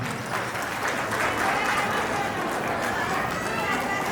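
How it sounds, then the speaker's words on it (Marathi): An audience applauds on stage at a golden jubilee celebration, a dense and steady roar of clapping that holds at an even loudness for several seconds, with voices mixed in. "आज आपण सर्वांनी टाळ्यांच्या गडगडाट श्रीमान विलास शेठ यांच्याकडे टाळ्या वाजवल्या."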